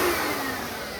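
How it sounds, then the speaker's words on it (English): A Kenmore Progressive vacuum cleaner motor spinning up, a loud whining roar that rises and steadies close by, heard alone. "here comes a run-up of the Kenmore Progressive"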